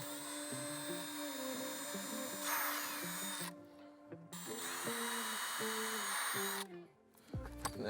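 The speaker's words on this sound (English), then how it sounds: "I could just hold it here and drill right through it." A power drill whirs up in pitch and grinds through plastic in two long bursts, close and loud, then winds down and stops.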